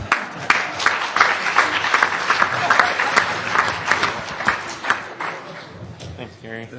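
An audience at an agricultural producer panel gives a loud, dense round of applause that carries on steadily, with a voice and a few sharp sounds near the end as it dies down.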